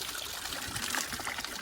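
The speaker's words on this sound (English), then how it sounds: "The stream, I think." A mountain stream near a waterfall in Kangpokpi district, Manipur, runs with a soft, continuous trickle and burble, faint and steady, with no voices.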